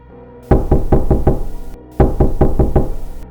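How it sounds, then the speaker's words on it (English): Two bursts of heavy pounding on a locked pub door after hours in Dublin, each a rapid run of about five loud, close, booming knocks separated by a brief pause. "they heard the banging at the locked door"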